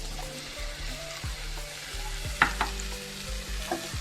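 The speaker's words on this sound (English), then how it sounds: "let this saute in that butter for 3 to 4 minutes" Chopped mushrooms sautéing in melted garlic herb butter in a pan, a soft steady sizzle close by, broken by a few light knocks of a spoon stirring.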